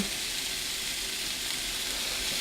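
Sausage meat frying in a small pan, giving a steady, loud, close hiss and sizzle that continues without a break.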